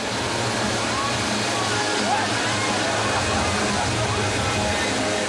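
Powerful rushing water from the FlowRider wave simulator aboard the cruise ship Freedom of the Seas, pumping about 113,000 litres per minute, roars as a steady, loud, unbroken wash throughout.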